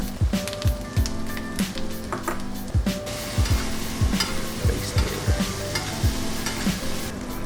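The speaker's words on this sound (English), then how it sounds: "I just literally want to add the steak back in and just sort of rewarm it up and just give it a little baste" A sous vide steak sizzles in a pan of butter with aromatics while it is basted, a steady fry broken by repeated spoon scrapes and splashes, loud and close with no voices.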